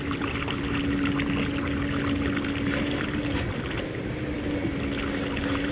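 A kayak bilge pump runs: steady rushing water with a constant mechanical hum underneath, continuous and fairly loud throughout.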